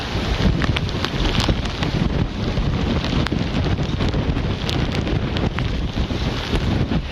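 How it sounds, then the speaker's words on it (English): Hurricane Delta wind and rain roar as a steady, loud, close wash of buffeting gusts and wind rumble against the microphone, with no voices. "we have sustained winds of 65 gusting to 82 miles an hour"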